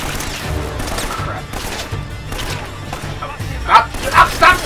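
Rapid gunfire bursts from the video game Uncharted: Drake's Fortune Remastered crackle in uneven volleys, growing louder toward the end, mixed with a voice calling out.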